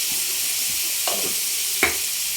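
Turmeric and dried red chili powder fry in a pan under a constant sizzling hiss, while two distinct scraping strokes of a stirring spoon sound nearby.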